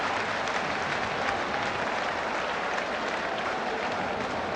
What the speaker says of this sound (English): generous applause here from the Portman Road crowd